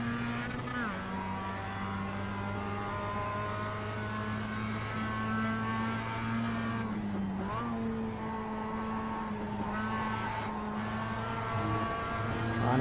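A Mazda MX-5 Cup race car in iRacing at Oulton Park, its engine note holding steady and then rising as it accelerates out of a corner, loud and close, with brief gear changes and other cars faintly nearby.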